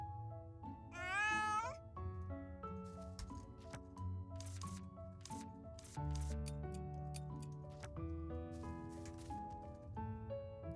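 A cartoonish cat meows in the video game Little Witch in the Woods, one rising, warbling meow early on, with soft background game music carrying on throughout.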